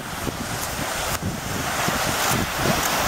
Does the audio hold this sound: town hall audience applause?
no